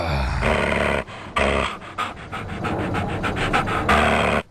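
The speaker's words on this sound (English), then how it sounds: "you freaked out my dog" A dog pants loudly and close up in rapid, uneven bursts, sounding startled, with brief pauses between runs of breaths and no voices.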